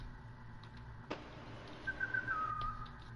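A player character whistles in the Roblox game Evade: a short, clear whistled phrase of a couple of sliding tones in the latter half, preceded by a single sharp click, over steady low game background.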